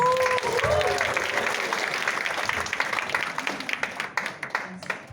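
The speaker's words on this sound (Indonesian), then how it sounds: "Saya beri tepuk tangan untuk beliau." Clapping from an audience builds into a dense wash over a few raised voices and a brief whistle-like tone near the start. It thins toward the end into sparser, separate claps.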